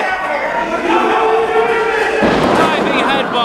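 Wrestling fans at an ACPW event roar and cheer loudly throughout, a dense sustained crowd noise that swells further near the end, with a ring announcer talking over it.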